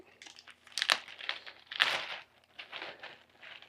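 Crinkling, crumpling handling of a wet bag holding lettuce scraps and cardboard from a worm bin, with close, irregular rustles and two sharper crunchy bursts.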